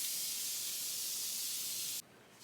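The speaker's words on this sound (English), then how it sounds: "let's go ahead and spray. My favorite setting spray is this Morphe, the Continuous Mist." Morphe Continuous Mist setting spray misted steadily over a powdered face, one continuous close hiss of fine spray lasting about two seconds and then cutting off abruptly into quiet.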